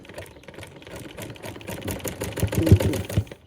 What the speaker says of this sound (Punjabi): ਇਹਦੀ ਵੀ ਇੱਥੋਂ ਸਲਾਈ ਸਟਾਰਟ ਕਰਾਂਗੇ ਆਪਾਂ